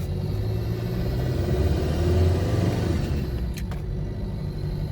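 A Ford Ranger pickup's engine runs with its powertrain warning light on and low power, limited to about 3000 RPM; a loud, steady, close rumble holds throughout with no voices.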